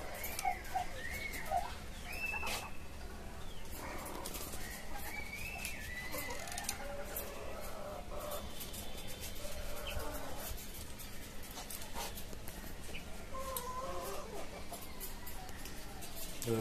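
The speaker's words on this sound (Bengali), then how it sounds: "এই হচ্ছে আমার টাইগার মুরগি, একটা মোরগ।" Native chickens, including a rooster, cluck intermittently nearby in a caged backyard farm after rain, with other birds calling softly in the background.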